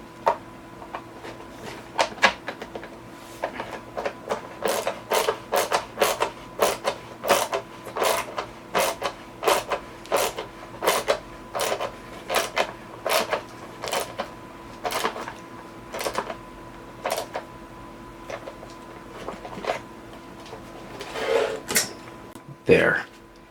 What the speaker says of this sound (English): we'll get that screw on right there.